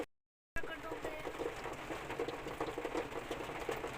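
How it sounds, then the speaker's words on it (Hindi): Heavy rain pours on a car, heard from inside as a dense, steady hiss and patter after a brief silent gap, with someone talking over it. "देखिए गाइस कितनी तेज बारिश हो रही है यहाँ।"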